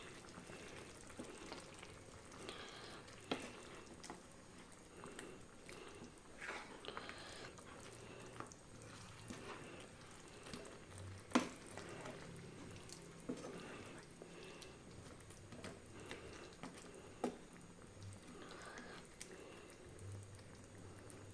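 Soft, steady bubbling and sizzling from a pan, broken by occasional scrapes and knocks of a spoon stirring chicken through thick gravy.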